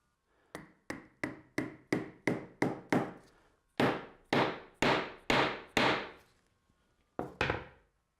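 A hammer driving a wedge into the handle of a burl mallet, with about fifteen sharp wooden knocks in quick steady groups separated by short pauses, loud and close with no voice.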